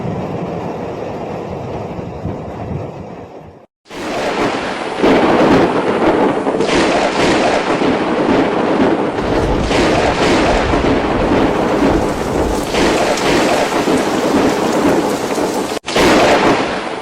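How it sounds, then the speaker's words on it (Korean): Heavy, rolling thunder roars loudly and continuously over pouring rain during a storm in China, with a brief lull before the rumble surges back at full strength. "번개 소리가 마치 용이 울부짖는 것 같았다"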